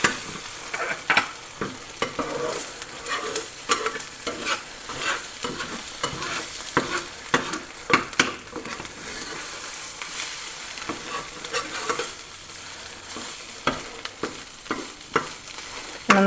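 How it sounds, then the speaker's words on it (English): Seasoned eggs scrambled in a pan, a continuous soft sizzle broken by frequent quick scrapes and taps of a utensil, close up and moderately loud, with no voices. "I scramble this like a scrambled egg almost for 3/4 of the cooking"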